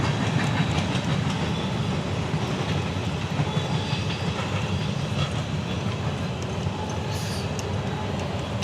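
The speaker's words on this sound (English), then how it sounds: "This is a long train." Long freight train rolling past the Chambers Bay golf course, a steady rumble with rhythmic clickety-clack of wheels on rail, continuous and fairly near throughout.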